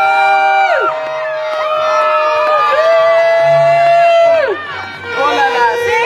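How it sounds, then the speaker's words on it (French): A wedding crowd cheers loudly for the couple, with high, sliding shouts and ululating voices overlapping in a lively, close burst of celebration. "Applaudissez le couple!"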